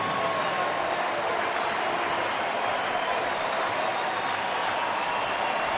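A baseball stadium crowd at a major league night game roars and cheers in a dense, steady wash of noise with no individual voices standing out.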